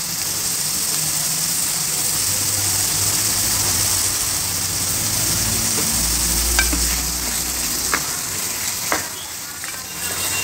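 Mutton frying in a pan with chili powder, a steady loud sizzle with stirring and a few sharp scrapes of the spoon near the end, no voices.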